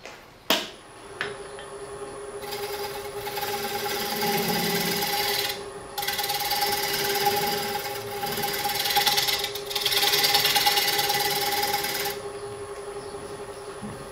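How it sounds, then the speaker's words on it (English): A sharp hand scraper peels shavings from a square wooden bowl on a lathe, producing sustained, close rasping passes over a steady machine hum, opened by a sharp knock. "You know your scraper is sharp if you can come off with shavings like that."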